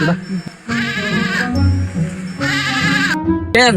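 A goat bleats loudly and close by in repeated wavering calls, with a person's voice heard between the bleats.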